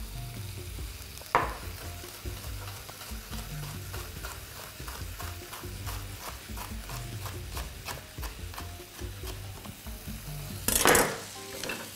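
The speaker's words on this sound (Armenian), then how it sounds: "Լսում ենք պղպեղը, միասին տապակում" Red sweet bell pepper strips fry in a pan with a steady, close sizzle, broken by occasional stirring scrapes and a louder crackling burst near the end; no voices.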